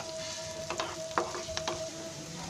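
Tempering spices and ingredients sizzle in hot oil for vegetable semolina upma, a close steady fry with a few sharp pops and stirring clicks, no voices.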